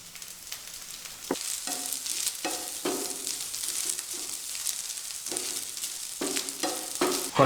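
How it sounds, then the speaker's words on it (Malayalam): Coconut oil sizzles steadily in a pan of pumpkin and cowpea erissery, Kerala style, while a spoon stirs and scrapes in irregular bursts of clatter up close. "കുറച്ച് വെളിച്ചെണ്ണ കൂടി ഒഴിച്ചു കൊടുക്കാം."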